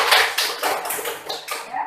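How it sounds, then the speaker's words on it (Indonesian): An audience in a lesson on obligatory and optional fasting claps their hands, a short uneven burst of close, bright hand claps lasting under two seconds. "Ya, tepuk tangan semuanya"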